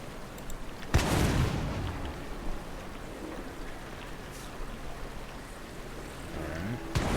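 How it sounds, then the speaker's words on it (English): A medium fire jet effect in the video game Planet Coaster 2 gives a sudden loud whooshing roar that bursts in and trails off into a broad rushing wash, with ambient park noise continuing beneath. "Fire jet, medium."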